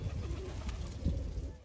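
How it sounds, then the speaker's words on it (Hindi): A pigeon perched nearby coos in low, soft, throaty notes, repeating over a steady background hum. "वो बैठा हुआ कबूतर गुटक रहा है उस पर"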